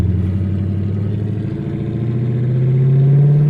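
Chrysler 300 SRT8 V8 engine pulling hard at speed, a loud, steady low rumble that swells and rises in pitch toward the end, close and continuous with no talking.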